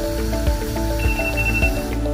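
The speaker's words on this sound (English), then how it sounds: "Timer." A kitchen timer rings with a steady, repeating electronic tone pattern, loud and close, while plant-based zucchini and avocado cream pasta cooks.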